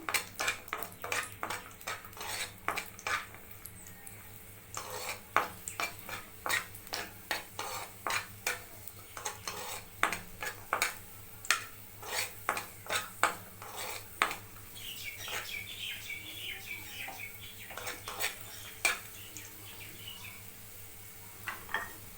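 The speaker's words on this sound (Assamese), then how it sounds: "আমি কিচমিচকেইটা ফুলি অহালৈকে ভাজি ল'ম।" Raisins fry in a pan for Assamese rice payesh made with joha rice. A spoon stirs them with steady scraping clinks against the pan, over a faint sizzle and a low background hum, and nobody speaks.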